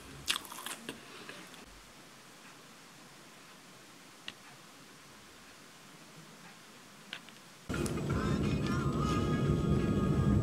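Close biting and crunchy chewing of food in a few sharp bursts over a quiet background, followed by a sudden louder stretch of busy ambient noise toward the end.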